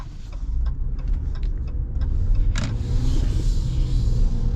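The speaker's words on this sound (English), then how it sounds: "Get a little bit of tire noise from those all-terrains" All-terrain tires on a 2025 Ram 1500 Rebel pickup hum as the truck drives on the road, a steady low rumble heard from inside the cabin with a few light ticks and knocks over bumps.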